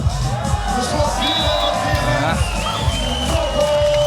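Home crowd at a beach volleyball King of the Court semi-final in Antwerp cheers and whoops in a loud, continuous roar with babble throughout.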